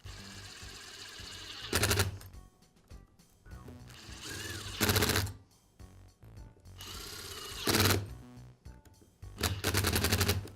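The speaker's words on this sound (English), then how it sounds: "now I can reinstall the gearbox cover and secure it with the screws" A power screwdriver drives screws to fasten the gearbox cover back onto a DeWALT angle grinder fitted with a new gasket, four loud, buzzing bursts of about a second each, separated by pauses filled with quieter handling noise.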